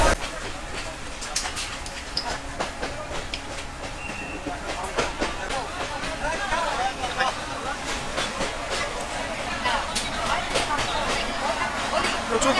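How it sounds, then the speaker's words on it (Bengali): Mongla commuter train pulling into Jessore Junction: steady rumble with rhythmic wheel clicks and metallic clatter, heard from on board with people talking nearby. "আমাদের ট্রেন এখন প্রবেশ করছে যশোর জংশন"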